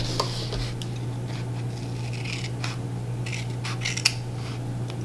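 Scissors trimming the bottom off a paper sticker box while planning, producing soft, close snipping and paper rustles scattered over a few seconds against a low steady hum.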